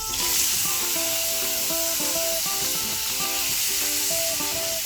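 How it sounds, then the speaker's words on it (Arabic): Duck breast sears skin-side down in a spoonful of ghee, giving a steady, close sizzle with light hiss throughout, no voices, while faint tonal music plays underneath. "نشوح الصدر في معلقه سمنه على الجلد بتاعه"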